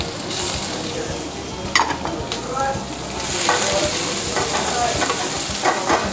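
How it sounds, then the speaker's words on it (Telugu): Onions sizzling and crackling in hot oil in a pan in a Rayalaseema restaurant kitchen, a dense continuous frying hiss with occasional stirring scrapes, fairly close and steady throughout. "ఇప్పుడు ఆ పెనులో ప్యాన్లో ఆయిల్ పోయింగానే చిటప చిటపడ అని చూసారా"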